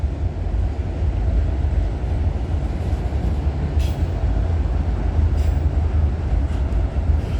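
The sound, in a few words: CN freight train passing trackside at night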